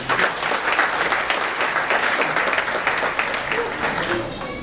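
Thunderous audience applause fills a felicitation function honouring successful civil service candidates, a dense, loud, continuous wash of many hands clapping that holds steady for several seconds before thinning slightly at the end.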